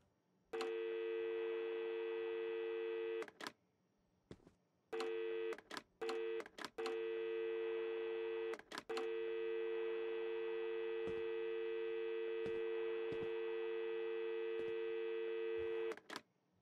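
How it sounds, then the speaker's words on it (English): A steady electronic telephone tone from the video game Adios repeats in long sustained stretches, broken by brief gaps and sharp clicks, loud and alone with no talk over it. "Where the hell is the phone?"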